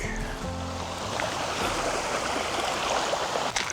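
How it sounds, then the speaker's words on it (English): Steady rushing of a flowing creek, continuous and fairly close, with no talking. "Ooh, pretty creek."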